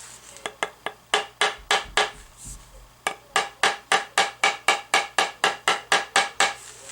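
A hammer strikes parts of a cheap Leo Jaymz Strat-style guitar kit, first a few scattered whacks, then after a short pause a fast, even run of about twenty sharp, close blows.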